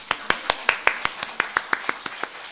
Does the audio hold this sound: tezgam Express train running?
no